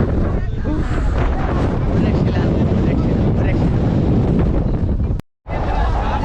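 Strong wind buffets the microphone in a loud, continuous roar, with a brief dropout to silence near the end before the rumble returns.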